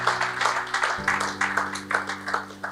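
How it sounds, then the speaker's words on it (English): Audience applause for the chefs at The Chef TV Reality Show gala dinner, a steady burst of many hands clapping with a low hum running underneath, moderately loud throughout. "Please give our chefs a round of applause"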